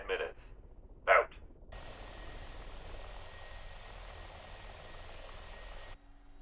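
Mi-24P Hind helicopter in the DCS flight simulator game: a steady rotor and turbine roar holds from about two seconds onward at even loudness, after a few short bursts of sound at the start, then cuts off abruptly near the end.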